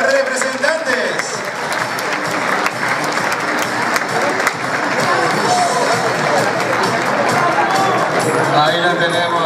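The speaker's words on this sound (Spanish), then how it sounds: "Fuerte aplauso para nuestros cuatro participantes" A studio audience at an 80s-themed TV talent show claps for four contestants in the running for the grand final, steady dense applause filling the whole stretch with a crowd hubbub and some voices under it.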